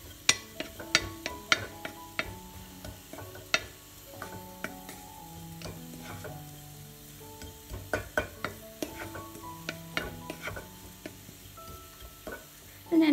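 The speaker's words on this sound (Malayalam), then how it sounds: "ഞാനിപ്പോൾ തീ അണച്ചിട്ടിട്ട് ആ പാത്രത്തിൻ്റെ അതേ ചൂടിലാണ് വറുത്തെടുക്കുന്നത്" Sambar spice mix dry-roasts in a hot pan with the flame turned off, a ladle scraping and tapping against the pan in quick irregular clicks over a faint sizzle, close and quiet.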